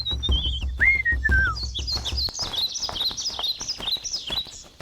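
Birds chirp and tweet in bright, close whistling calls and rapid warbling trills over a low background rumble that fades out toward the end.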